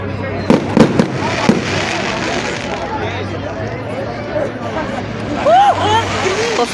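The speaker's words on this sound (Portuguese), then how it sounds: "ali está a fogueira, fogos de artifício, comemorando a festa de São João" Fireworks crackle and pop near a São João festival bonfire in Santa Catarina, sharp bursts early on and a whistling rocket later, over crowd chatter and nearby talking.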